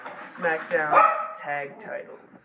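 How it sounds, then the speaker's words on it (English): A dog barks repeatedly somewhere in the background while someone talks over it about wrestling matches, the barks partly masked by his voice. "sorry about the stupid barking in the background"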